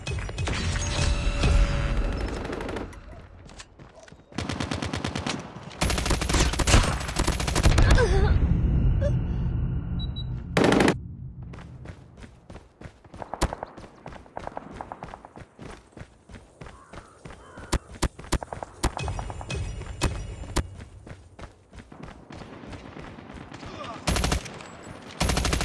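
Call of Duty Mobile match with a deployed sentry gun firing rapid automatic bursts amid other gunfire, footsteps and game effects, loud and busy with quieter gaps between volleys.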